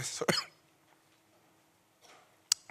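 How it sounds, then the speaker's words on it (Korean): A man with a bad cough lets out a couple of sharp, close coughs in quick succession inside a church, followed after a pause by a faint throat sound and one more short, abrupt cough. "제가 오늘 기침이 좀 심해서"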